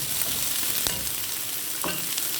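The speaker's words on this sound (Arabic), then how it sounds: "هون راح أقلب كل المكونات مع بعض" Yellow, green and red bell peppers and other vegetables are stir-fried in a pan, giving a constant loud sizzle up close with a few soft scraping stirs and no talking.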